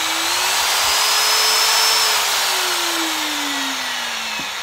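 A Japanese domestic 100V power drill with hammer mode runs continuously, a loud steady whine that rises slightly in pitch and then slowly falls before cutting off, with no talk.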